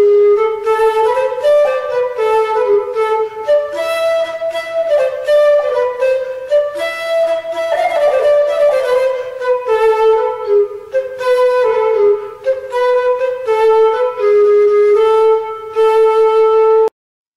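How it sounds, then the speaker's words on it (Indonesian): Metal flute playing a melodic line alone, clear and bright, with a series of distinct sustained notes moving up and down in steady rhythm for about seventeen seconds before stopping abruptly. "Itu bukan suara seruling ya anak-anak, tapi itu adalah suara flute."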